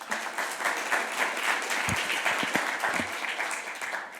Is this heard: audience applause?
yes